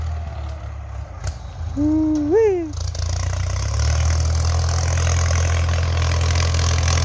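An old Ford 6600 tractor engine idles with a steady low rumble, preceded by a brief bird-like chirp and faint sounds, then settling into a continuous near drone.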